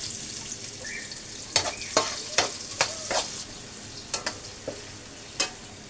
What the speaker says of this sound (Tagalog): Ligis-ligisin ko yung bawang para humalo yung lasa sa mantika